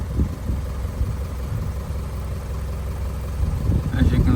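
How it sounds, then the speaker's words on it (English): A truck engine idles steadily at moderate loudness, its low hum swelling slightly near the end, with no speech over it. "Alright, so we've got the truck idling."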